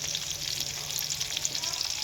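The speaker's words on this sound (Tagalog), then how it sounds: "Galonggong, mga kabatang prito." Galunggong fish frying in oil: a dense, even sizzle with crackling spatters, close and constant throughout the short stretch, with no voices over it.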